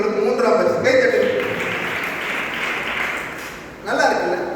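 A church congregation claps together during a revival service, a broad sustained wash of hand claps that swells, dips briefly and rises again near the end, with a voice speaking over the start.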